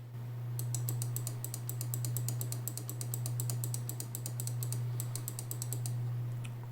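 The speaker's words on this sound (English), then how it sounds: "Left mouse button guys, the click." Left button of a HyperX Pulsefire Haste gaming mouse clicked over and over in quick bursts, crisp close clicks over a steady low electrical hum, no speech.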